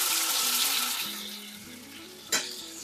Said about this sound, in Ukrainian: Перегортаю, накриваю кришкою та даю просмажитись гарненько ще півтори-дві хвилинки.